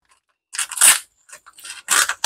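A plastic bag holding a raw chicken is snipped open in a few quick crinkly cuts and tears, close up, in separate bursts with short pauses between them.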